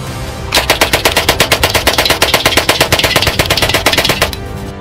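Rapid automatic fire from a Daewoo K7 submachine gun, a South Korean SMG adapted from the K1A1 assault rifle, firing around 600 rounds per minute: a loud, steady burst of closely spaced shots lasting about four seconds, with no talk.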